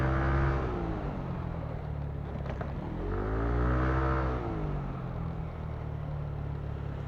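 A Yamaha Aerox 155 scooter, its CVT freshly cleaned, revs on a street with other traffic around, the engine note climbing and falling in smooth swells over a steady close idle drone.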